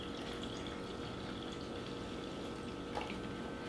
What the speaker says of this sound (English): So we're going to start by putting in 8 cups of vinegar.